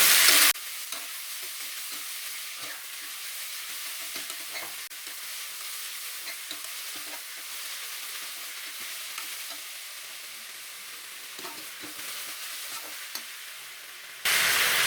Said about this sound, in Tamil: நம்ம இப்போ வெங்காயத்து கூட சேர்க்குறோம், நம்ம கிண்டுறதுக்கும் ஈஸியாக இருக்கும்